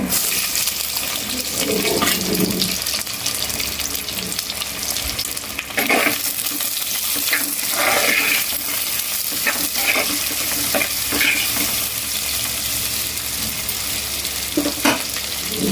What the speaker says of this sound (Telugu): ఉల్లిగడ్డ కొద్దిగా మగ్గాలి, పచ్చివాసన పోవాలి.